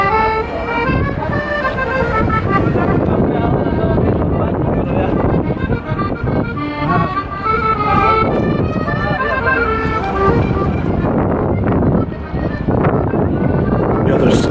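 Strong wind blows by a river in Salzburg, a continuous heavy roar buffeting the microphone for the whole stretch, with people talking underneath.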